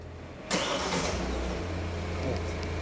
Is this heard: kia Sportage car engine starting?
yes